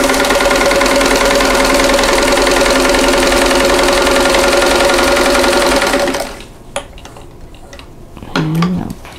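A sewing machine stitches a quilt block seam a quarter inch from a drawn line, a loud, close, steady motor whir with rapid needle rhythm for about six seconds before stopping, followed by faint handling noises.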